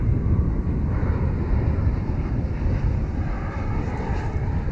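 Aircraft at DFW International Airport in Dallas, Texas, give a steady, loud, broadband jet roar that holds without pause, with a slight hiss of wind on the microphone.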